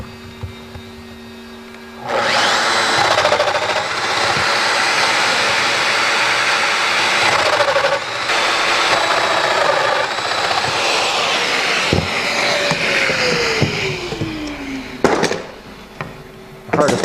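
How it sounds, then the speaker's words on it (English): A Festool Domino XL joiner cuts mortises in wood with a loud, sustained whining motor roar and grinding bursts. The tool spins up and down several times, with clamp knocks and handling noises between cuts. "I'm just going to work off some of the other pins that are on here and make more mortises."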